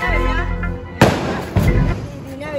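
Two loud firecracker bangs go off nearby during Diwali, one after the other, among raised voices.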